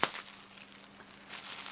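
Crinkling and tearing of a small plastic parcel package as it is opened, a quick close rustle that is louder at the start and again at the end.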